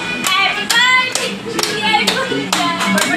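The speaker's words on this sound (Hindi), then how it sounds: "अरे ताली तो बजाओगे।" Several people clap in uneven bursts at an 18th birthday celebration, close and loud, with voices calling out between the claps.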